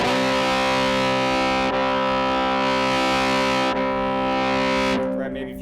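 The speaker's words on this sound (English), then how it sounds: "let's turn it up to one of the more extreme distortions" An electric violin played through an expression pedal with extreme distortion, loud sustained bowed notes with a buzzing, gritty tone and brief breaks between strokes, alone with no talk.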